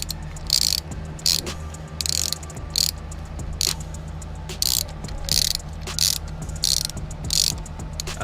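Ratchet with a 14 mm socket backing out a starter bolt on a 1.6-liter B13 Nissan Sentra, heard as short bursts of fast clicking repeating about every half second over a steady low hum.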